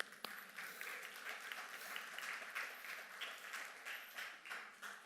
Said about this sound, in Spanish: quiero darles un aplauso a ustedes